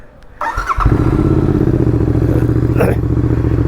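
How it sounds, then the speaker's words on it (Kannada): A Royal Enfield GT 650 twin fitted with an AEW exhaust starts with a thump, then rumbles loud and close into a deep, steady idle with a brief rev near the end. "And exhaust sound ಕೇಳಿಸ್ಕೊಳ್ರಿ."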